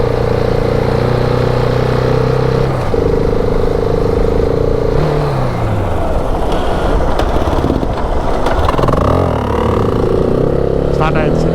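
A motorcycle on an African ride, with battery trouble, starts after being towed; its engine catches and settles into a steady mid-pitched running drone with revs rising and falling, close by, as people talk over it.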